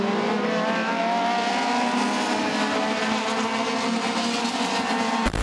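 AE86 Corolla race car with a two-way competition setup, its engine running loud and steady at high revs in a workshop, a constant droning roar that cuts off abruptly at the end.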